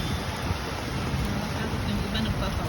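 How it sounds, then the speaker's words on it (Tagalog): Heavy thunderstorm rain falling in Qatar, a dense, steady hiss and wash of noise throughout with a low rumbling underlayer and no distinct thunderclap standing out. "kumukulog ang lakas"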